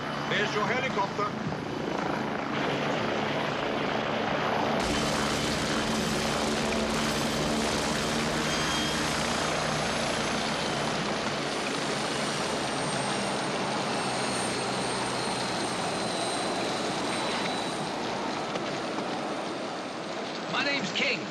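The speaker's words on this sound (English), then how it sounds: "There's your helicopter." A helicopter runs steadily and loudly close by, engine and rotor drone filling the whole stretch with a dense, continuous roar at the start of a dramatic scene.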